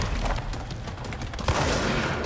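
Repeated shotgun blasts from the video game Control, loud and close, with a dense burst of shots and a heavier cluster of reports near the end.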